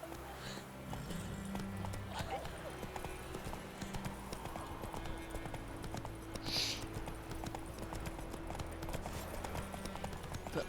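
Roach the horse's hooves clip-clop in The Witcher 3, a steady rhythmic beat under game music and ambience, with a brief faint whinny partway through.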